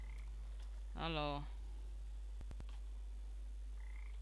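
A frog in the video game Papo & Yo gives one loud, drawn-out ribbed croak, followed by faint clicks. A voice speaks briefly near the end.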